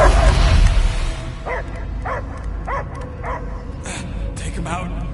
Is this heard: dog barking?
yes